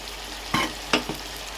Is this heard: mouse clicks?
no